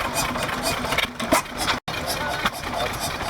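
A vintage hit-and-miss stationary engine runs at a steam rally, chuffing in uneven rhythmic bursts as it fires and coasts, close and loud, with crowd noise around it.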